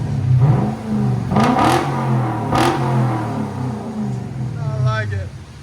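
A Lexus V8 engine revs up and settles in a steady, loud drone with rising bursts, heard close while people talk over it.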